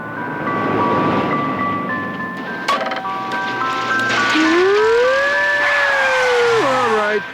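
A tinkling ice cream truck jingle plays clearly, joined by a rising and falling siren-like wail, with traffic rumble underneath.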